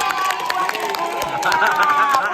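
A crowd of children clapping their hands together in a lively burst during a fire safety talk, with voices mixed into the clatter throughout.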